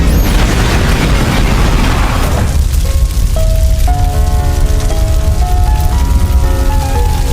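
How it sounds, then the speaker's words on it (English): A van explosion sound effect lands as a loud, crackling boom with a debris-like rumble, then fades into a tonal musical cue that takes over. "The villain brat took cute dog and van got explosion."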